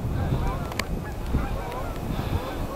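Many geese on and off a river honk repeatedly from a flock, a busy overlapping chorus of calls over steady outdoor noise.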